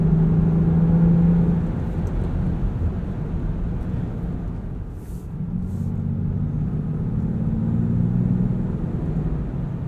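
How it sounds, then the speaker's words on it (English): Steady low rumble of a 2020 Land Rover Defender 110 SE with a turbocharged engine and 8-speed automatic, heard from inside the cabin under acceleration; no talking, with a slight dip in level midway. "Get just a hint of turbo whistle on light throttle."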